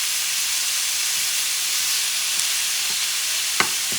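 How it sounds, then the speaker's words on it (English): Picadillo with onions and pepper cooks in a pan, giving a loud, steady hiss and sizzle with a few faint clicks and one sharp tap near the end; no talking. "And I'm going to cook it until it darkens somewhat."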